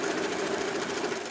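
Sewing machine stitching along marked practice lines: a short, fast, steady mechanical whirr and rapid ticking at close range, with no talk.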